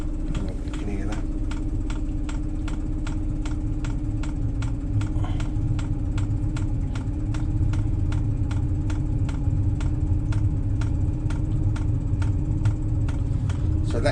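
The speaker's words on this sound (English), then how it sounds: "So that's the fuel pump" Hcalory Chinese diesel heater fitted on a boat, its fuel pump ticking in a fast, even, steady rhythm over a low running hum, close and continuous throughout.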